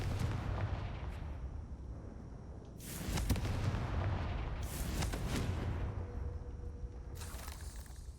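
A fiery Confringo spell blasts in the Hogwarts Legacy game: a rumbling low background is broken by several explosive bursts a second or two apart, each with a crackling tail.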